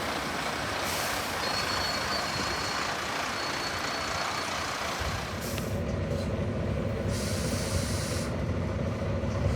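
Ex-York Volvo B9TL Wright Eclipse Gemini double-decker bus on route 7 out of Weston-super-Mare, its engine running as a steady loud rumble with a hiss of air, heard from on board and free of speech.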